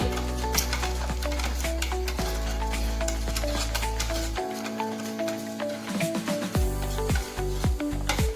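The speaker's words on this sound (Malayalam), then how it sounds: "നമ്മൾ തടിയുടെ സ്പൂൺ വെച്ച് ഒരേ ഡയറക്ഷനിലേക്ക് നല്ലപോലെ മിക്സ് ചെയ്ത് കൊടുക്കണേ" Homemade grape wine is stirred with a wooden spoon in one direction, producing a wet, sloshing swirl with soft knocks against the vessel, close and steady, over a background hum and without talking.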